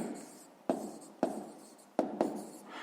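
A pen writes on paper in a few short, separate scratchy strokes, close and quiet, with pauses between them.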